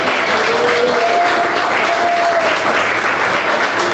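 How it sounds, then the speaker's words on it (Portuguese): A church congregation claps in praise to God during a sermon, a steady, full-bodied applause filling the room throughout, with faint voices calling out beneath it. "Mas palmas que engrandece a Deus"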